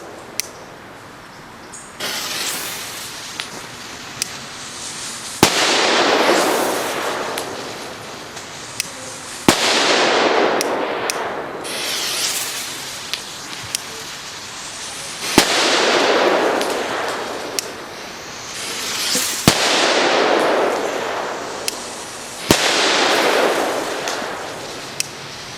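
Long-fuse firecrackers tested outdoors: each fuse hisses and fizzes for a few seconds before a sharp, loud bang, repeating about six times in a steady cycle with no talking.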